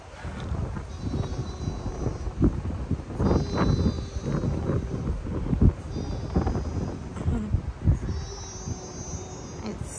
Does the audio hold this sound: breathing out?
no